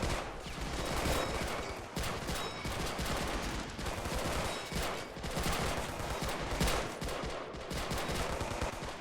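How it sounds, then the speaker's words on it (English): M1 Garand rifles and other weapons fire in a Men of War battle as Marines assault a Guam beach. The gunfire is loud, dense and continuous, with shots overlapping into one sustained roar. "it's lovely to hear the Garand open up at the Japanese trenches"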